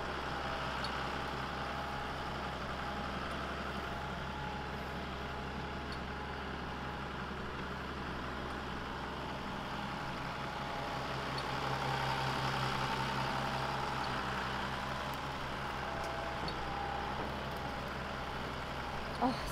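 A vehicle towing an old trailer pulls away, its low engine drone steady and muffled from inside the cab, swelling slightly midway, with faint background voices.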